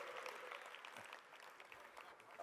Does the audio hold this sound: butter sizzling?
no